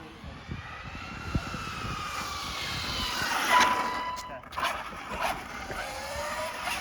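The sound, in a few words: Arrma Felony RC car at full throttle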